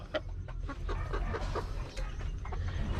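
A flock of chickens clucking and murmuring continuously over a noisy low rumble, many overlapping short calls at moderate distance.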